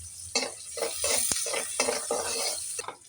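Chopped onions go into hot oil left over from frying fish for a fish kalia, sizzling steadily while a utensil stirs and clinks against the pan in a repeated rhythm, close by, with no voices.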